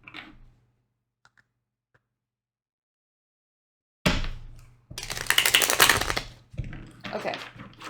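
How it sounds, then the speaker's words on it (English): Quick bursts of tarot cards riffling and being shuffled, close and crisp, in short rapid runs after a quiet stretch. "I really want to make sure this deck is shuffled good"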